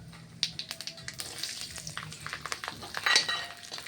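Bay leaf, cumin and whole garlic cloves frying in hot oil make a soft, quiet sizzle broken by quick stirring scrapes and small taps against the pan.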